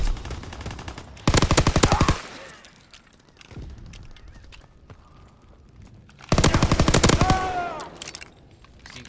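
Bursts of automatic gunfire from Call of Duty WW2 on the London Docks map, two loud sustained volleys about a second long separated by quieter game ambience.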